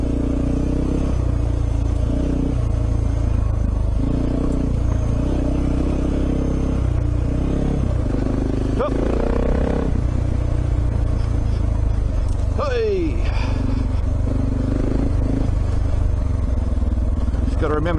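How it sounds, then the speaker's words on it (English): A motorcycle engine runs steadily at high revs, loud and close, with a couple of brief pitch sweeps as it shifts or accelerates. "Got to remember to keep those high revs up."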